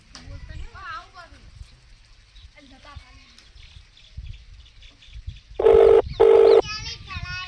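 Two long electronic dialing tones sound on a phone in a rural Gujarati comedy setting, bright and loud, following stretches of talk, bird calls and farm noise.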